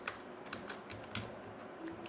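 Typing on a computer keyboard while entering salary data in Tally ERP9 accounting software: quiet, close, irregular key clicks in short bursts, with no talking.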